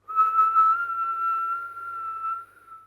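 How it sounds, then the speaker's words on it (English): A whistling inhale during a breathing exercise, one sustained, close, clear whistle tone lasting a few seconds, alone. "with a little whistling sound if you can get it"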